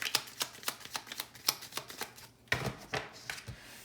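Tarot cards being shuffled and laid out during a reading, heard as a quick, regular run of close, soft card flicks and riffles, then a few louder slaps as cards land, with no talking.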